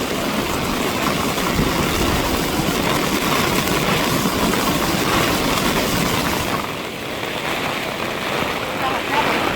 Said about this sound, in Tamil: மழையுமோ விடுற பாடு இல்லை